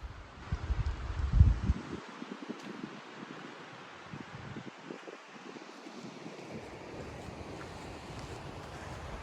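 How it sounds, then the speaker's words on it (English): Steady broadband rush of a river flowing along a mountain trail in the Alps, continuous and moderately loud, with a heavier low rumble in the first two seconds. "You can hear the water rushing."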